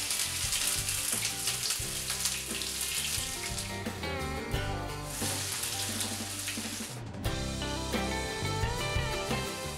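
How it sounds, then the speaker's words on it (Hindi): Ginger garlic paste sizzles in hot desi ghee, giving a loud, dense, continuous frying crackle with constant spattering that holds steady throughout, with no talk. "देसी घी गर्म हो चुका है, अब इसमें हम अदरक लहसुन का पेस्ट डाल लेते हैं।"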